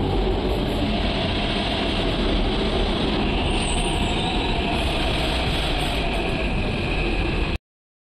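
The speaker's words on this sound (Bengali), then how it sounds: "দেখুন ট্রেন আসবে এখনই।" A Hyderabad metro train pulls into the station, a steady loud rumble filling the whole clip without pause and no talk over it, ending abruptly.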